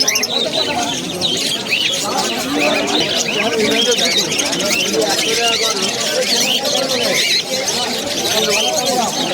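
Pigeons for sale at a popular pet market in Uluberia, West Bengal: dense, continuous chirps and coos mixed with steady crowd chatter and nearby voices throughout.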